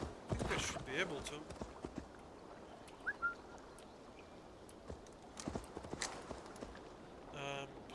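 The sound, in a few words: horse hooves clip-clopping in the video game Assassin's Creed Valhalla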